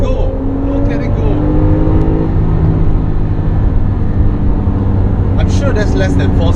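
A 2017 Porsche 911 Carrera S accelerating hard, its engine note rising steadily and loud under constant wind roar, with a brief voice heard near the end.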